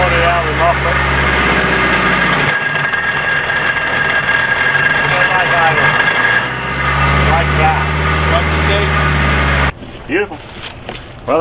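The inboard engine of the sailboat SV Seeker cold-starts and idles with a low, steady throbbing. It cuts out partway through, rumbles back up, then stops, and a few faint knocks follow.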